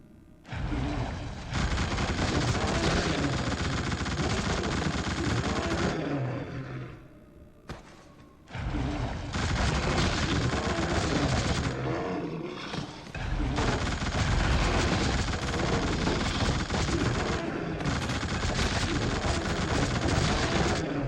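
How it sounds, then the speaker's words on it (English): A mounted machine gun fires in sustained, loud bursts in The Suffering, a dense roar of rapid shots with a brief pause around the middle before the barrage resumes. "So go ahead and use this mounted machine gun to take care of these marksmen."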